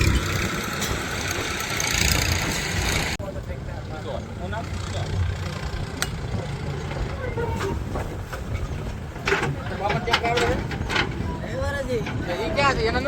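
Two farm tractors idle with a steady low engine rumble, close by, while people talk over them during fertilizer loading.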